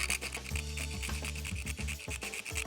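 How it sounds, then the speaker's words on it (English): Whole cinnamon being grated fresh on a fine grater makes continuous close, rapid rasping strokes, steady and unbroken, with no voices. "I like to buy it whole and grate it fresh."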